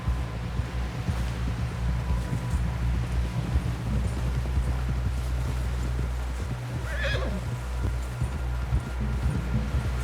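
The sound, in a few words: horse hooves galloping, from video game Red Dead Redemption 2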